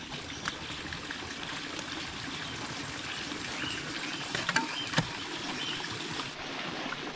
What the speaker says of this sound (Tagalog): Malakas yung tubig.